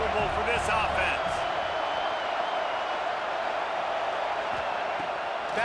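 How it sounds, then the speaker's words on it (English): A stadium crowd in EA Sports College Football 26 roars in a steady, dense wash throughout, with a few sharper thumps near the start and a voice talking over the noise. "This crowd trying to make life miserable for this offense"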